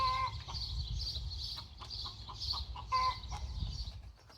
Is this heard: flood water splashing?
no